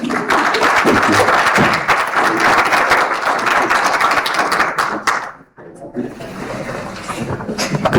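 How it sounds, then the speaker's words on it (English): Audience applause greets a speaker walking on stage at a film expo in the Eastern Cape, loud and dense clapping for about five seconds, then a brief pause before lighter clapping and room noise continue. "May we please just give him a round of applause as he comes through."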